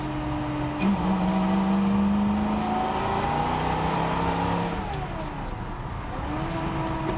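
A 1965 Ford Ranchero engine pulls in second gear, its steady, fairly loud drone climbing and shifting in pitch through the run, with no talking.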